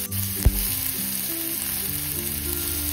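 Onion hits hot oil with cumin seeds, mustard seeds and asafoetida for an Indian home-style dish, giving a loud, steady close sizzle after a sharp clink near the start.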